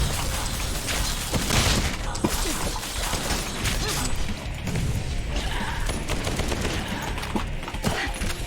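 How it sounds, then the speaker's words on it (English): Judgment Cut sword attack thrown in the action game Bright Memory, a dense burst of slashing, crashing impacts and rapid gunfire-like bursts that fill the whole stretch loudly with little pause. "So I'm throwing that Judgment Cut."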